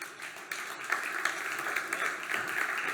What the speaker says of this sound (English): give Javed a huge round of applause if you would